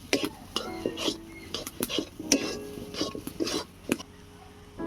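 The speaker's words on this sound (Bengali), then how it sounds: "সব কিছু দিয়ে একসঙ্গে ভালো করে নাড়াচাড়া করে নিয়ে ডালটাকে একটু শুকিয়ে নেব" A mixed dal filling with chopped coriander being stirred in a pan to dry it out, heard as a series of close metal spoon scrapes and taps against the pan with a faint sizzle.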